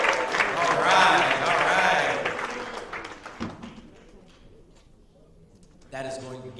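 An audience at a poetry slam applauds a poet, a burst of clapping and crowd noise that swells, fades under an announcer's voice, then briefly rises again.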